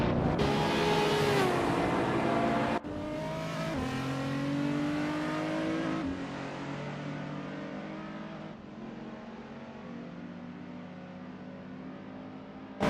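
Racing cars accelerating around NOLA Motorsports Park in a racing game, small agile cars such as an Alpine A110 and Audi RS3 among them; a steady, continuous layered engine drone with rising and shifting revs as gears change, no talk.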